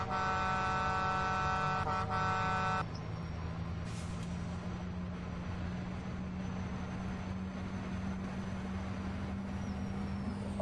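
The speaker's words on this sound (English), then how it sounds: "I wanna make sure I jake break through town and then honk the horn." A Mack semi-truck's air horn in the game Farming Simulator 15 honks in one long, loud, steady blast that stops abruptly, leaving a low engine drone and a rising whine.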